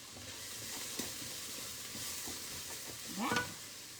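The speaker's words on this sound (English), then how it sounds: "You can't beat bacon and onions a cooking." Bacon and onions fry in a pan with a steady close sizzle, broken by a few soft clinks and a brief louder scrape near the end. No one speaks.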